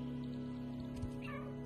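A short cat meow from the video game Stray, rising briefly over a steady game background hum, fairly quiet and heard once.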